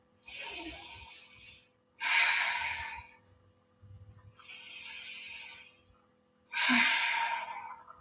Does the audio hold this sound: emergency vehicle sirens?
no